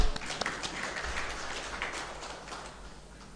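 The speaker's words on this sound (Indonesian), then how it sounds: "Tepuk tangan untuk kita semua." Audience applause at a 2021 PPID award ceremony in Kulon Progo, a dense wash of clapping that starts strongest and slowly fades over a few seconds, heard from a distance in a hall.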